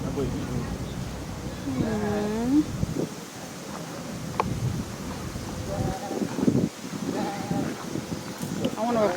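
Goat on a farm bleating in a few wavering calls near the microphone, with wind buffeting and people talking nearby.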